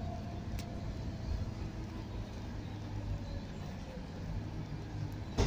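Inside an Arriva Volvo B9 bus on the 62 route to New Marske while driving: a steady low engine and road rumble with constant cabin noise throughout, no one speaking.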